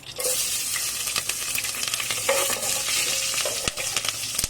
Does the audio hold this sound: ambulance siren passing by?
no